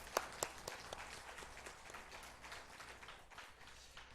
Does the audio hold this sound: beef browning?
no